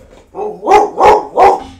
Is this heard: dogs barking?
yes